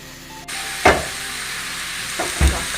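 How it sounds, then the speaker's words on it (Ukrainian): Onions cooking in a pan for bigos with a little broth added, a soft continuous sizzle broken by a few sharp clatters and knocks from utensils, close and quiet with no voices. "У нас плавиться цибулька."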